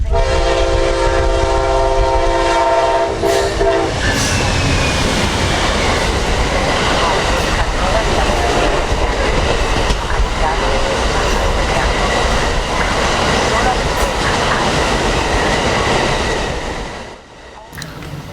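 A loud train horn blasts at the start, then an Amtrak Auto Train's rail cars rumble and clatter past close by for a long stretch before the noise suddenly drops away.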